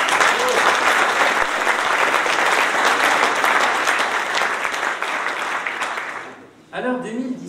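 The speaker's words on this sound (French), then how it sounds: "On peut les applaudir." A crowd at a New Year's greetings ceremony breaks into loud, dense applause that holds for several seconds, gradually thins out, and gives way to a voice as the clapping ends.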